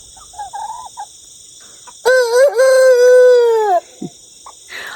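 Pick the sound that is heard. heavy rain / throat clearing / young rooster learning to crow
young rooster learning to crow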